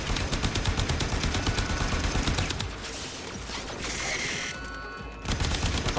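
Automated turrets fire in the sci-fi video game Warframe, rapid mechanical gunfire rattling loud and continuous, easing into a lower hum midway before the bursts resume.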